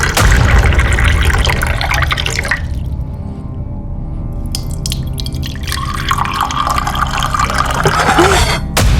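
Tap water runs and splashes while glasses are washed by hand, a close, steady gush that briefly thins to drips before flowing strongly again.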